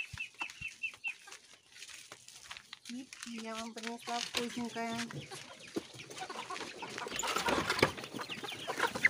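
Chickens on a farm cluck and chatter close by while someone talks to them; a rising tonal call and rustling of feed or branches run beneath her voice.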